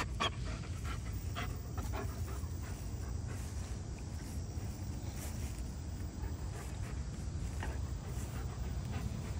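A puppy pants rapidly and steadily close by, a rhythmic breathy huffing repeated throughout over a low outdoor background rumble, with no talking.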